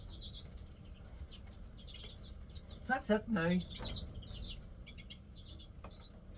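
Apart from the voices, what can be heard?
redpolls and greenfinches in outdoor aviary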